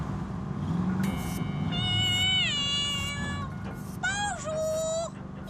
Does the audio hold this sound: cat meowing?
yes